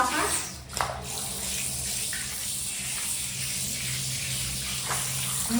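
Water runs steadily from a tap throughout while a cat named Mango is being bathed, a continuous gushing wash with occasional small splashes and handling noises close by.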